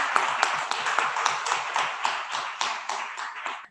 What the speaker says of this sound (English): The AV team, they need a round of applause